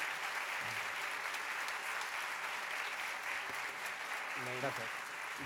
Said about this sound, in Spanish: Otro aplauso también para él.